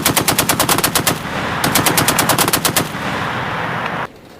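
Machine gun fire as a war sound effect for a Falklands War battle scene: two long, rapid, loud bursts of shots with a short gap between them, then a fading rumble.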